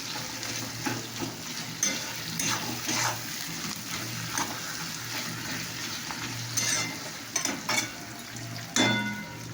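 Food fries in a pan with a continuous moderate sizzle, broken by intermittent scraping and clinking as it is stirred.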